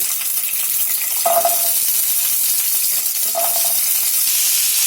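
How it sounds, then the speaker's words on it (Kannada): Gooseberries fry in a pan of hot refined oil, giving a steady, close sizzle and hiss throughout, with two brief clinks from stirring partway through. "ಎಣ್ಣೆನಲ್ಲಿ ಒಂದು ಎರಡರಿಂದ ಮೂರು ನಿಮಿಷ ಫ್ರೈ ಮಾಡ್ಕೊಳ್ಳೋಣ"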